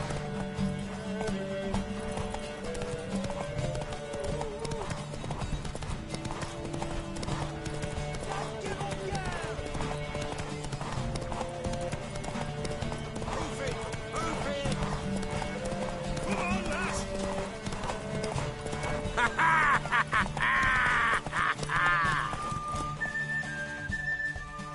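Horses galloping in a race in the video game Witcher 3, with rapid steady hoofbeats and an occasional whinny running throughout under voices talking and a musical score.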